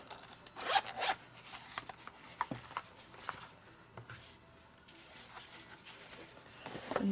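An X-Acto knife that needs sharpening cuts through felt weatherstripping backing for a pendant, giving soft scraping, rasping strokes up close in irregular bursts with brief pauses in between.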